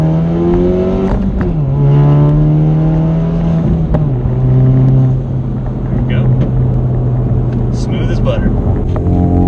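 A tuned turbocharged Camaro pulls hard under about 20 psi of boost up to around 6,200 RPM, its engine note climbing loud and close before easing off, with faint chirps near the end.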